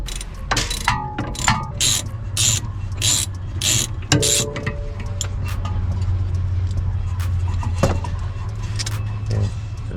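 A ratchet removes the brake caliper bracket bolts on an EK hatch during a four-wheel disc brake repair: loud bursts of rapid clicking, sharp metallic clinks and rattles, with a steady low hum between them.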